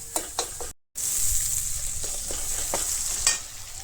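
A Bengali curry sizzles loudly in a pan while being sautéed and stirred, with repeated scraping strokes and a brief dropout near the start. No one speaks.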